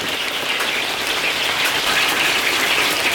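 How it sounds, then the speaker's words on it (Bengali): Heavy rain pouring down outdoors, a dense, loud, continuous hiss of drops with no talking. "বৃষ্টি বেড়েই যাচ্ছে বেড়েই যাচ্ছে"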